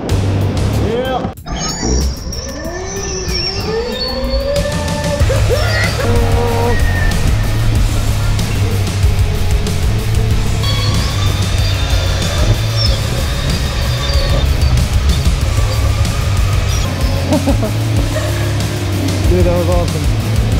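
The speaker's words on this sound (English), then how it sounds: "So we just finished racing here at the go-kart place." Go-karts race around an indoor go-kart track, a steady loud engine drone with whining, shifting pitches as karts pass close by, continuous throughout with no pauses.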